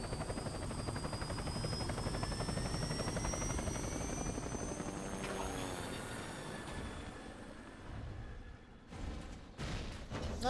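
Helicopter in the video game Metal Gear Solid 4: a loud continuous rotor and engine roar that slowly fades, then breaks into short sharp bursts near the end.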